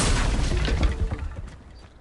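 A fiery Confringo blast spell in Hogwarts Legacy, a deep booming burst with a rumbling low tail that slowly dies away, heard alone.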